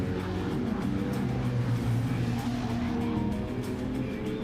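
Race cars in Gran Turismo 7 roar around the Spa circuit one after another during a lap race. Engine drone and faint tire noise fill the scene steadily at moderate loudness.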